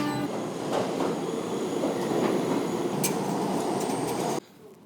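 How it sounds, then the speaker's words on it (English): A New York City subway train rumbles steadily past, loud and close, with rhythmic wheel clatter and faint metallic squeals over the roar, which then drops away abruptly near the end. "Now I'm going to take the subway down to Washington Square Park"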